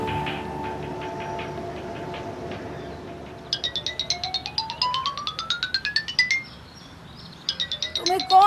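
A mobile phone rings indoors in early morning, its electronic tone sweeping upward in rapid repeating bursts, pausing briefly and then starting again, loud and close over a faint low room hum.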